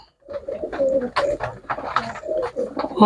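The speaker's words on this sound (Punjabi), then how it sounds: "ਕਬੂਤਰਾਂ ਦੇ ਲੈਂਥਾਂ ਦੇਖੋ ਬਈ ਵਧੀਆ ਕੱਦ ਕਾਠ ਦੇ ਕਬੂਤਰ ਆ" Several pigeons being shown for sale at a pigeon keeper's place coo steadily and close by, overlapping soft throaty calls forming a continuous murmur.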